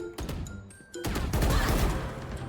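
Gunfire from a new Valorant weapon skin in the video game, a short burst of shots, then a gap and a longer, louder stretch of rapid firing close up.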